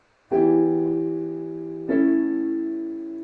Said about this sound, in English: an imperfect cadence, I'm going to play a 2 to 5,